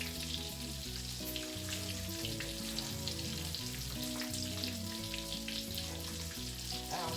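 Battered onion rings fry in hot oil with a steady, continuous sizzle under prominent background music, with no talking.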